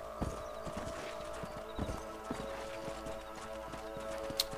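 Horse hooves clip-clop at a steady trotting rhythm in the Red Dead Redemption video game, close and clear, with a brief whinny near the end.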